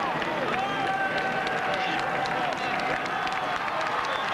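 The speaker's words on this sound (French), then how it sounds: "acclamation du public pour Richard Virenque devant Dufaux" Roadside crowd cheering and clapping for cyclist Richard Virenque on the Tour de France 1996 climb to Lourdes-Hautacam, a steady, dense roar of spectators holding level throughout, heard from some distance.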